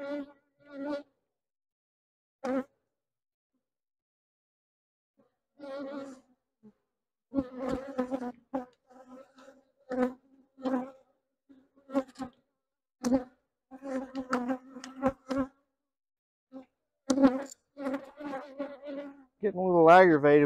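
Honey bees buzzing around an open hive during an inspection, with capped honey and nectar frames out; intermittent close buzzing passes come and go in bursts, with a louder, wavering buzz of an agitated bee near the end.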